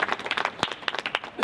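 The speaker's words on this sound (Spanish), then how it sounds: "Esos aplausos sinceros." Audience clapping along at an Andalusian romancero performance, a quick run of sharp hand claps at moderate distance, fairly sparse and uneven rather than a full ovation.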